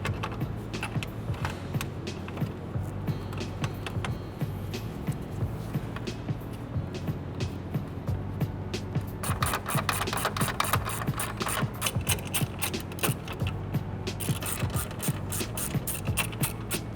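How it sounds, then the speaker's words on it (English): Power-tool ratcheting drives the four 10mm bolts back into a Dodge Ram grille. A continuous mechanical whir and rattle runs throughout and turns into rapid repeated clicks in the second half, close and steady. "Next, reinstall the 4 10mm bolts."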